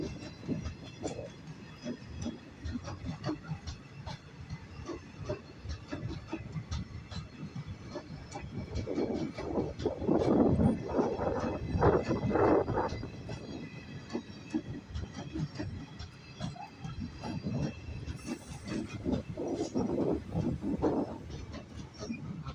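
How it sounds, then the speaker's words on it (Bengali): A Balurghat–Nabadwip Dham passenger train moves through Balurghat railway station, a steady rumble of wheels and rolling wagons that swells in the middle and carries on with light hiss, no voices over it. "বালুরঘাট নবদ্বীপ ধাম এই ট্রেনটি যাচ্ছে"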